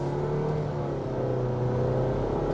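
A 2021 Nissan Rogue Platinum with a CVT accelerates hard under full throttle, the engine droning loud and steady from inside the cabin as its pitch climbs through simulated gear steps.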